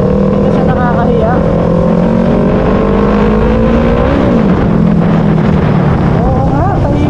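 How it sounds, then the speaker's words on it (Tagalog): A Yamaha R3 motorcycle fitted with an M4 exhaust runs loud and close with a steady droning engine note and small rises in revs, while someone talks over it. "Gusto ko itong tunog ng ng M4 exhaust."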